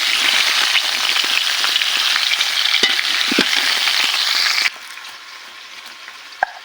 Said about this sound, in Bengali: এভাবে কিছু সময় আমগুলো নেড়ে চেড়ে নিতে হবে।